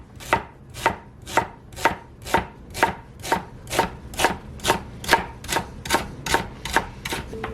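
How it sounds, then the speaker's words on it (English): Kitchen knife chopping through a halved vegetable on a cutting board, about fifteen crisp, evenly spaced strokes in a steady rhythm, close and alone with no talk. "I cut this in half and then I slice it"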